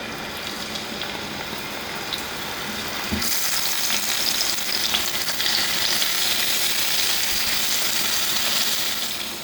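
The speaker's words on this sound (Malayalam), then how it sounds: "നമുക്ക് ഇത് ചെറുതായിട്ടൊന്ന് വറുത്തെടുക്കാം." Fish shallow-fries in coconut oil with a continuous dense sizzle that grows louder and brighter partway through, spattering steadily with no voices.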